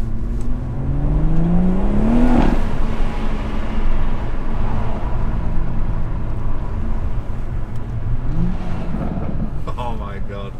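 BMW M140i with B58 engine and resonator delete, exhaust rising in pitch under acceleration around the two-second mark, then a steady loud road drone and another climb near the end, heard from inside the car.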